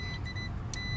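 A steady, thin multimeter continuity tone holds through the whole second while tracing a short circuit behind a repeatedly blowing fuse, with a low vehicle rumble underneath.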